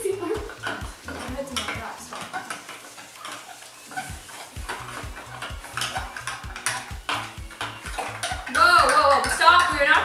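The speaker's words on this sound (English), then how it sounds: "Stirring the center some more by going slow." Pumpkin pie filling stirred in a bowl, repeated clinking and scraping of a utensil against the bowl in an uneven rhythm, close up, with voices talking around it.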